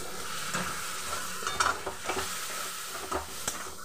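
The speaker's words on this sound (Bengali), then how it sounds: "এবার মশলাটাকে আবারও ভালো করে কষিয়ে নিচ্ছি।" Chicken stir-fried with meat masala in a pan, a close, steady sizzle broken by repeated scraping and clinking strokes of a spatula against the pan, with no talking.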